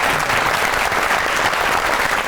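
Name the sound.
studio audience applause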